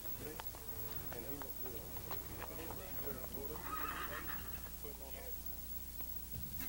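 Shire horses being unloaded in 1985 for presentation to the Third Infantry Regiment whinny loudly while hooves clop on the ground, all heard beneath a steady narrating voice over a faint hiss.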